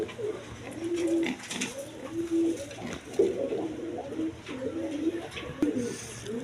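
Racing pigeons coo in soft, repeated throaty phrases close by, several birds overlapping in an uneven rhythm against a quiet background.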